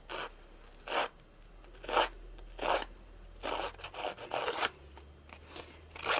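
A scissor blade scraping along cardstock in a series of rough, rasping strokes, about eight of them, close and fairly quiet with short pauses between.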